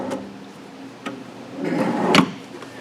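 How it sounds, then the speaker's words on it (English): A lockable storage drawer under the console of a 2017 Lund 1875 Impact boat is handled, giving a few sharp clicks and knocks, then a sliding rumble that ends in a firm close, heard up close. "And those are lockable drawers, and they have them on both, underneath both consoles"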